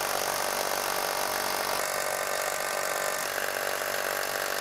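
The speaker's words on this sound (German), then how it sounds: "Wir haben jetzt locker flockig unsere 16er Löcher gebohrt" A drill bores 16 mm holes into a concrete block with a loud, steady, high-pitched grinding whine that shifts slightly in tone partway through, heard close and unbroken.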